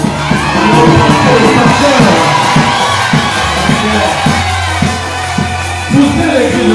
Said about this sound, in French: vous pouvez pousser des cris de joie pour nos mamans